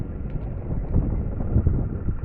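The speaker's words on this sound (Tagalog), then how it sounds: "Buti mahangin." Low, steady wind rumble buffets the microphone close up, a dense muffled roar throughout with no talking.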